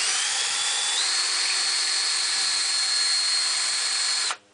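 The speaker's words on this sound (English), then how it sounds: "Let the weight of the drill do it. Give it a little nudge if you're going through a knot like we are here." A power drill whines at a steady high pitch as it bores through knotty wood in a jig for trailer front framing, loud and close for about four seconds before cutting off abruptly.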